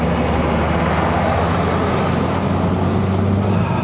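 A 2.0-litre MK3 Ford Focus Sport+ accelerates to overtake on a mountain road in Malaysia, its engine a steady, loud droning roar inside the cabin with constant road rumble throughout.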